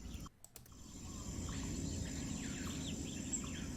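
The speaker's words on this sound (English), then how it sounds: "this first one is called The Sanctuary, and it's just a bunch of birds chirping." Many small birds chirp and tweet in a dense ambient layer, with faint insect-like trilling mixed in. The texture stays steady and moderately quiet under a low background hum, with a brief dip near the start.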